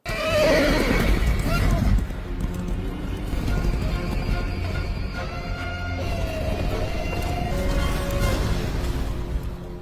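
Horses neigh and whinny as riders arrive in a film scene, a loud whinny up front followed by a dense mix of hooves, movement and voices talking throughout.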